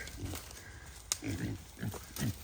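Pigs grunt in short low bursts at irregular intervals, close by, with a faint high-pitched hum in the background.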